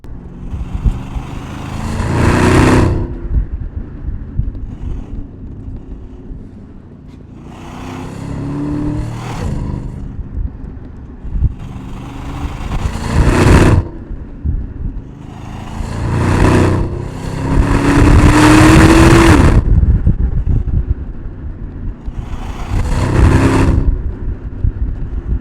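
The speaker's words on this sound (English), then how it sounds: "what it's like to drive this thing from the driver's seat and hear that brilliant Mansory V8 exhaust" A Porsche Panamera Turbo with a Mansory V8 exhaust roars loudly from close by, repeatedly revving up through gears with deep bursts and crackles between quieter cruising stretches.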